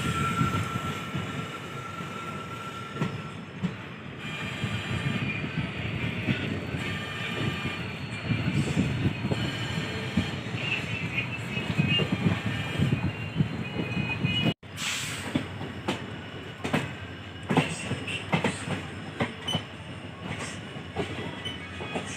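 Steady rumble and rattle inside the general class coach of the UBL-SC Express as it runs toward Gadag Junction, with continuous wheel clatter and occasional squeals, one brief dropout midway, no talk.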